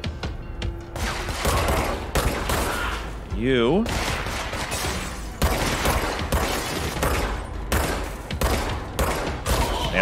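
Rapid bursts of gunfire in the third-person shooter game Control, with dense shots and impacts crackling close around, a whooshing warble partway through, and a brief voice in the mix.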